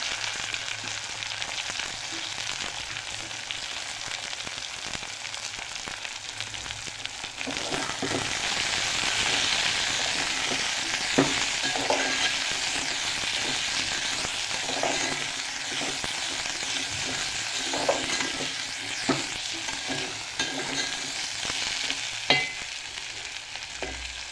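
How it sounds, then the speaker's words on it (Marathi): Peas and potatoes sauté in a hot pan for Marathi-style veg pulao, with cashews and almonds added, giving a steady close sizzle broken by occasional scrapes and stirring clatter, with no talking. "बटाटा सगळं टाकून घ्यायचे असतात आणि हे मस्त परतून घ्यायचं"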